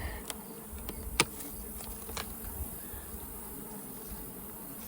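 Honeybees buzzing around four hive boxes during a nectar flow, a soft continuous hum of many bees with individual bees zipping past close by, fairly faint and steady.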